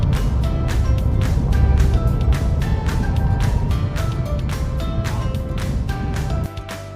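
Interior of a car moving in second gear at around 20 to 30 kilometres per hour, with a loud, steady engine drone and a regular ticking pulse over it. Near the end the engine note drops away abruptly.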